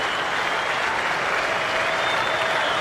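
Cricket crowd at the Australia vs New Zealand Test applauding Khawaja passing 150, a broad, steady, moderately distant wash of clapping held at even loudness throughout.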